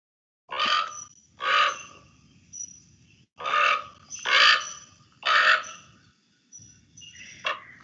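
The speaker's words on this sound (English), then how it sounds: "So it's more of a croaking sound versus the cawing sound." Raven croaking in a series of hoarse, throaty calls, six loud bursts in quick pairs separated by short pauses, followed by a fainter final call, with no talking.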